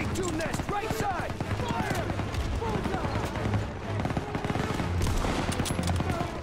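MG-42 machine gun fire in Call of Duty: WWII, continuous rapid rattling bursts under layered battlefield gunfire, with a person talking over the shooting.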